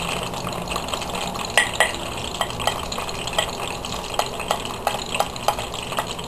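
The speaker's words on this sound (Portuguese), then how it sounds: "Já vou jogar logo o alho." Garlic hitting a slightly wet frying pan for a bean refogado, giving a steady sizzling hiss with scattered sharp crackles and small clinks, close and continuous with no talk.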